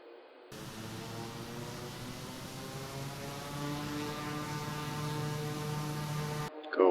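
A Kodiak 100 turboprop engine and propeller drone steadily in Microsoft Flight Simulator 2024, a continuous harmonic hum with tones that shift slightly, ending abruptly.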